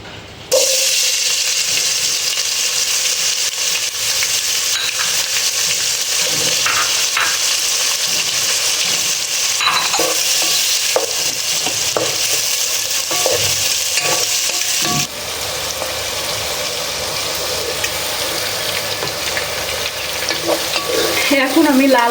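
Onions and meat fry together in a pan for biryani, giving steady loud sizzling with stirring scrapes throughout and a brief shift in texture partway.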